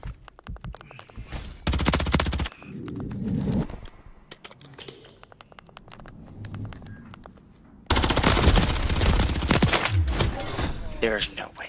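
Rapid automatic gunfire in Call of Duty MW3 ranked play, sharp repeated bursts that come and go in loud stretches, with someone talking between and over them.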